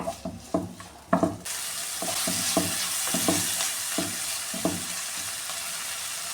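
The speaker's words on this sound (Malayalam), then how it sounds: "ഉപ്പ് ചേർത്ത് കൊടുക്കുമ്പോൾ ഈ ഉള്ളിയൊക്കെ പെട്ടെന്ന് വഴണ്ട് കിട്ടുവേ" Chopped onions sauté in hot oil with salt for a long beans thoran, a loud, steady sizzle starting suddenly after a few spatula knocks, then repeated rhythmic stirring scrapes over the continuous frying.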